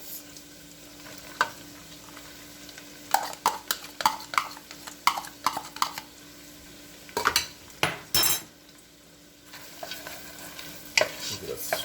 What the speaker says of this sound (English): Give it a stirring